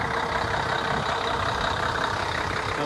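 Small passenger boat at Ouranoupoli near Mount Athos warming up its engine, a steady, continuous idling drone with no variation and no voices.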